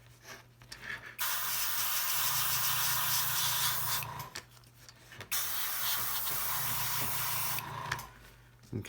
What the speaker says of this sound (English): you can always move your airbrush a little bit closer